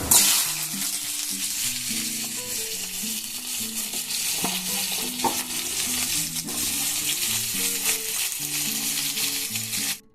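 Potatoes and pointed gourd frying in hot oil with cumin and dried red chili, a steady close sizzle with soft stirring scrapes, while background music plays throughout.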